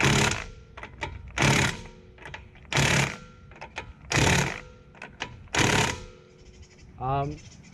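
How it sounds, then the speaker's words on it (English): Lug nuts on a Mazdaspeed3 wheel being tightened: several loud, sharp mechanical bursts about a second apart, with short gaps between them and a brief voice near the end. "just to make sure they're all tightened down"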